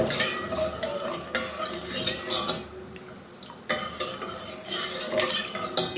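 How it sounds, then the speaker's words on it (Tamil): A spoon stirs sugar dissolving in water in a pan over medium heat, giving a continuous close scraping and swishing with light clinks and a brief quieter pause partway through. "ஒரு 2 நிமிஷம் நல்லா கலந்து விட்டுடலாம்."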